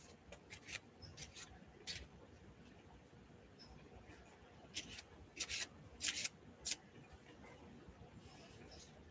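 Tarot cards being shuffled by hand, a stiff deck that is hard to shuffle, giving faint bursts of crisp riffling and rubbing scattered over a quiet background.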